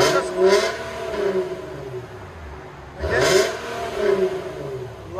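A 2012 Infiniti G37 with a 3.7L V6, resonator delete, stock muffler and 4-inch tips revs twice, each a sharp, rising bark that falls back to a burbling idle, fairly close and without talk.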